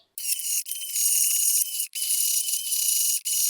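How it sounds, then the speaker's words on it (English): A handheld stick mixer blends blue cheese dressing with a high, buzzing whir that runs in three long bursts, each cut off by a brief pause. Nobody speaks. "we're just going to be using a stick mixer. Now we'll mix it up."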